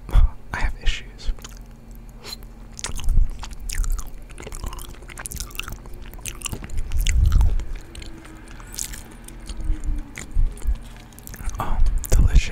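Close-up chewing and biting of chicken pot pie, with repeated moist crunches, squishes and scrapes in irregular bursts, recorded intimately with occasional soft whispered sounds.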